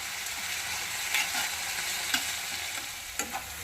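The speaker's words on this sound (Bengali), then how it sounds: "পেঁয়াজটা গোল্ডেন ব্রাউন করে ভাজতে হবে" Onions fry in a pan of oil toward golden brown, an even, close hissing sizzle broken by a few light stirring clicks, with no talking.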